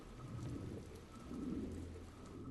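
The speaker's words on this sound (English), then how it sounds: "Oh, it's picking up the rain sound." Rain in the horror video game Insomnis falls as a faint, steady hiss and patter in the background, with soft low rumbling beneath it and no voices.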